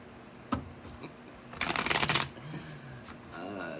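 Cards shuffled by hand, a short taps-and-riffle burst lasting about half a second, close by in a quiet room with a few softer handling sounds around it.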